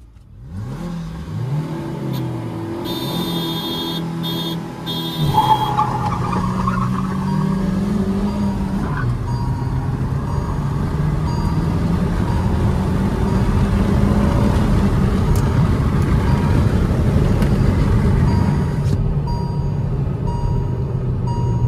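Two petrol hatchback and sedan engines, a Hyundai Verna 1.5 and a Maruti Swift 1.2, rev hard and accelerate side by side in a drag race, with rising gear pulls and a steady loud roar throughout.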